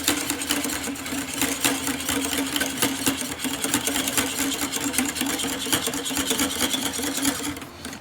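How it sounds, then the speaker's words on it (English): Milk is whisked for a mango tart, a fast, steady, rhythmic whirring and ticking of a whisk against a bowl, close and continuous with no talk. "And just whisk."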